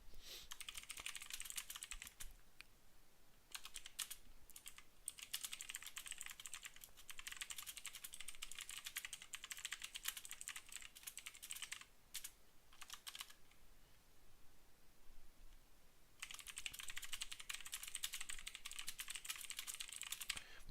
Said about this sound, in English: right now, guys, I'm typing up the commentary